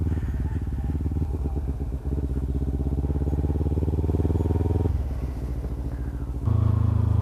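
Kawasaki Ninja 300 motorcycle idling and puttering in tight low-speed circles in a parking lot, a steady close engine drone that shifts in pitch as the throttle changes, with no voices.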